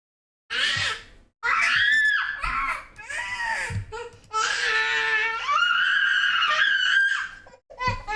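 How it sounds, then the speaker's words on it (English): A young child screams in long, shrill, near bursts, mixed with whiny crying and short vocal outbursts, with brief gaps of quiet between them. "Scream. Don't just scream."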